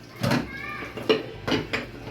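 Ceramic plates and dishes clink and knock in a few separate bursts while someone washes up, with short clatters close by and a voice speaking between them.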